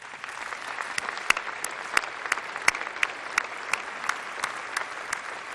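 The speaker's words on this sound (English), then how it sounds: "as much as you deserve the applause that you just got" Audience applause at a county opening ceremony, a steady wash of many hands clapping with sharper individual claps popping through, moderately loud and continuous with no talk.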